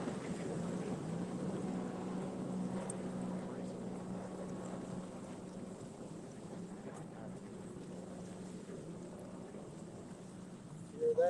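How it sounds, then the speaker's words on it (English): Jet ski racing on a lake, a steady droning motor hum running throughout at moderate distance, with some wind noise and water ambience. "Hear that? It's a jet ski racer."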